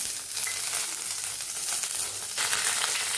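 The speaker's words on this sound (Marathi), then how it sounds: "जिरं मोहरी व्यवस्थित झालं की याच्यात आपण कढीपत्ता टाकून घेऊ" Curry leaves hit hot oil already crackling with cumin and mustard seeds for a chana dal and pumpkin sabzi, giving a loud, continuous close-up sizzle that flares brighter near the end, with no talking.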